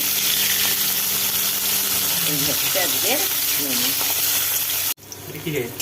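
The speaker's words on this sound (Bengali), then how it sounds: "এটা চিচিঙ্গে ভাজা হচ্ছে" Snake gourd fries in a pan in a Bengali home kitchen, a steady loud sizzle running throughout while a person talks over it; the sound cuts out briefly near the end.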